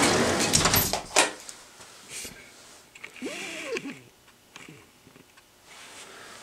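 A telescope filter drawer slides open and shut while a filter is swapped, giving scraping mechanical slides and clicks with a short squeaking sweep, close by over faint background noise.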